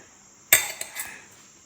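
A metal fork clinks against a pot while cooked plantain is lifted out for cassava fufu, one sharp chink followed by two lighter taps, close and brief.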